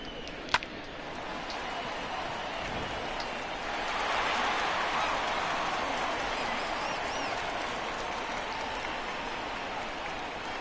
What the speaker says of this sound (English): the crowd is a little bit too loud and it's throwing me off